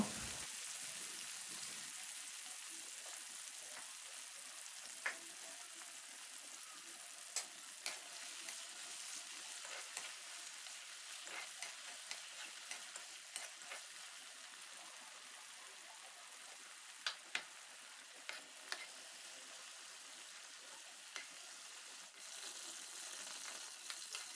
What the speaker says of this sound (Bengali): এরপর চিংড়ি মাছগুলোকে ভেজে নেব